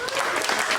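A comedy club audience at the Laugh Factory clapping together, a short dense burst of applause from a crowd that sounds fairly close.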